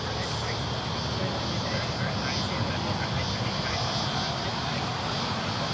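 A Qantas airliner departs Sydney Airport bound for Qatar, its engines a steady, broad roar held at moderate distance for the whole stretch, with no pause or fade.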